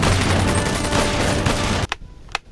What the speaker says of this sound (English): this is Captain America pistol